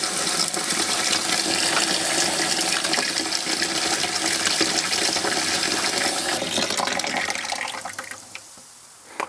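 Water runs out through the sink drain pump of a 2024 Winnebago Revel camper van, a loud steady gush and pump hum that carries on, then tapers off and quiets near the end.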